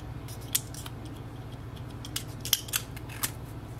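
An orange plastic seal is peeled off an HP ink cartridge, giving a series of small crackling and snapping ticks over a steady low background hum, with no talking.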